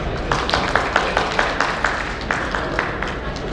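An audience at a chartered accountants' session applauds CA Ravi Jain: steady, moderately loud clapping from a roomful of people with rhythmic individual claps standing out, continuing throughout.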